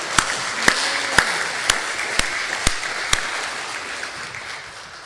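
A church congregation at an early-morning service claps along, with a soft wash of applause under sharp, evenly spaced loud claps that repeat about every half second.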